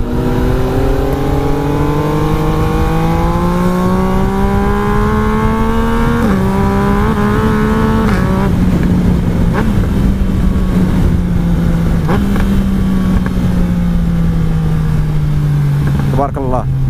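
A Yamaha Tracer 900 GT three-cylinder motorcycle revs hard on a ride with a quickshifter, its engine note climbing through gears with brief dips at shifts, loud and close against wind roar, while a rider talks over it.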